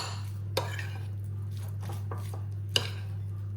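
A ricotta and black pepper ravioli filling is stirred in a bowl, giving soft scraping and squishing with two sharp clinks of a utensil against the bowl, over a steady low hum.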